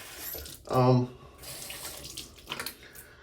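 Water runs from a bathroom tap during a wet shave, in brief bursts that swell and fade, close by, with a person's voice talking around them.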